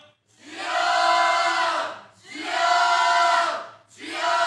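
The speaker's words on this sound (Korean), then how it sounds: "우리 주여 삼창" A church congregation, including middle and high school students, shouts "Lord" together three times in a row, each a long, loud, sustained collective cry separated by brief pauses.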